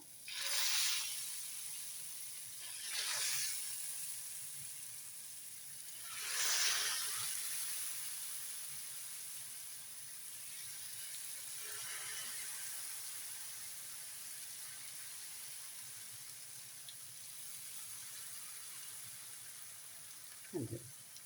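Batter-dipped banana stem pieces fry in hot oil with a steady hiss and sizzle. Several louder bursts come as pieces go into the oil, then the sizzle settles to a constant crackle with no voices.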